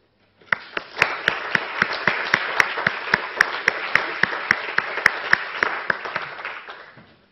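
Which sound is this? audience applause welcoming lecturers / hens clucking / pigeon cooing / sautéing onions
audience applause welcoming lecturers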